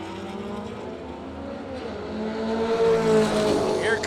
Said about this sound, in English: Here comes that Pontiac trying to get around that Volkswagen